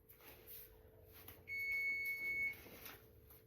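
An oven timer beeps while a chocolate bundt cake bakes, a single high electronic tone held for about a second in a quiet kitchen over a faint background hum.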